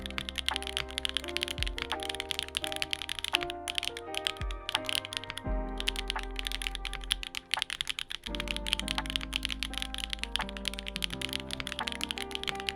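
Typing on a Black Diamond 75 carbon mechanical keyboard, advanced version, a fast, continuous run of crisp, clacky keystrokes close up, with deeper thocks from larger keys and steady rhythm throughout, over soft background music.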